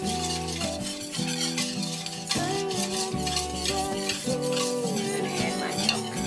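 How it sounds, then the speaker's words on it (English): Flour being stirred into melted butter in a pan with a utensil, soft scraping and clinking against the pan under quiet kitchen sounds, steady and close. "Stir that in."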